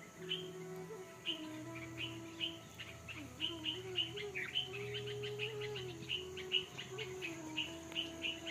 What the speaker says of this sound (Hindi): पक्षियों की आवाज़ सुन रहे हैं आप?